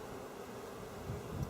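Honeybees hum in a steady, faint drone during a hive inspection as a frame of pollen is handled, swelling slightly toward the end with soft rustling and no talk.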